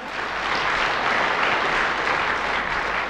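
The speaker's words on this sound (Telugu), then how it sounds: "గట్టిగా చప్పట్లు" Steady, dense applause from a crowd at a Sankranti celebration honoring a guest, sustained and fairly loud throughout without pause.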